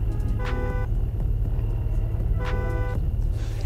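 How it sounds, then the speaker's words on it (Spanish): Car horn in the video game Fears To Fathom: Norwood Hitchhike, sounding two short separate honks about two seconds apart over a steady engine hum. "Ah, el claxon está aquí, vale."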